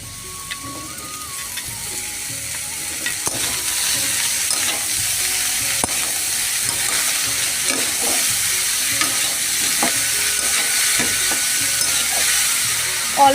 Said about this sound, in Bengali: এখন আমি এই আলুর সাথেই কেটে রাখা ঝিঙ্গেগুলো দিয়ে দেবো।